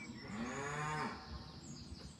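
A cow near the deserted Spanish village of Aneto gives one long, loud moo that rises and falls for about a second, then fades into quiet outdoor background.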